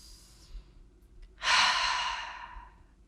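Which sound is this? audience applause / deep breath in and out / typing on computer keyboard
deep breath in and out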